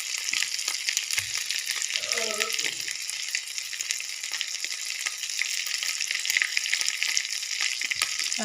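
Spices, ginger and turmeric for dal dhokli fry in hot oil with a dense, steady sizzle throughout, and a faint voice briefly underneath.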